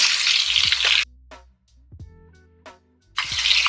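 Chicken pieces browning in a pan over medium-high heat for a butter bean and tarragon stew, a broadband sizzle that starts and stops in loud bursts with quieter gaps and faint clinks between.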